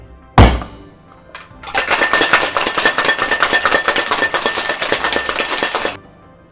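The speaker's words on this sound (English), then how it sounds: "Now I'm going to add some ice and shake the shit out of it again." A cocktail shaker packed with three one-inch ice cubes is shaken hard for a Halloween drink with egg white, giving a fast, loud, steady rattle of ice against the tin for about four seconds after a sharp knock.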